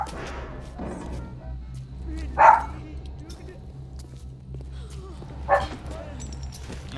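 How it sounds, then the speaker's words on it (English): Dogs in the video game BioShock give two short, sharp barks a few seconds apart over a low game hum, with someone talking around them. "Dogs? In my video games?"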